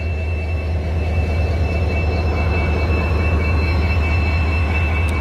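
The locomotive of the Siliguri Intercity Express gives a loud, steady rumble with a constant low drone and a faint high whine, running continuously with no voices.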